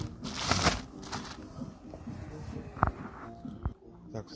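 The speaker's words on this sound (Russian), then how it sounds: "Открыл все-таки пакет посмотреть," Crinkly plastic rustles and crackles close by as the bag packaging a Sharkoon SKILLER SGS40 fabric gaming chair is handled and pulled open, with a few sharper snaps toward the end.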